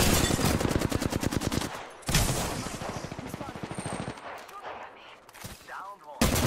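Rapid automatic gunfire in an Apex Legends battle, with dense bursts of shots rattling loudly at the start and returning near the end, separated by briefer volleys and mixed with game effects.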